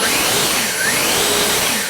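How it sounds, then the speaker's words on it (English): An EGO 650 CFM electric leaf blower with a turbine fan runs steadily at full power, a loud, close, broadband jet-like whoosh with no pauses. "This machine, they call it a turbine system in here, and I gotta say, it does make a jet engine kind of sound"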